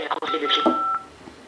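A single steady keypad tone sounds during a Bouygues Telecom automated phone menu, clear and close, while a recorded voice keeps talking over it.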